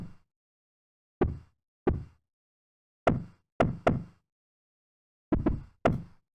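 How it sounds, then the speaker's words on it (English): Seven short, punchy clunk bass hits programmed in FL Studio with the lows cut away, landing in uneven groups of one to three, each a dry knock-like thump that decays quickly into silence. "That's the clunk bass."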